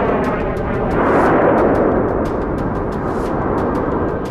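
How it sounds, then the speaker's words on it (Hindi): A powerful missile blast on the ground in a war sound effect, a heavy rumbling boom swelling then rolling on, with rapid sharp cracks like gunfire or debris scattered across it, loud and sustained. "और फिर जमीन पर जोरदार धमाका होता है,"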